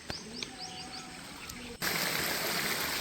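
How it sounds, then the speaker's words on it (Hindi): A small artificial waterfall spills into a pond in a natural outdoor setting; birds chirp and a faint trickle is heard at first, then a loud steady broadband rush of falling water takes over abruptly and continues. "इसका पानी सीधे इस तालाब में गिरता है।"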